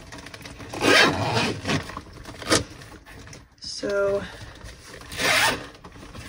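A zipper on the interior back pocket of a vintage 2001 camel Coach Willis leather bag being zipped, with close rustling and rubbing of the bag around a few quick zip strokes, and a person briefly speaking.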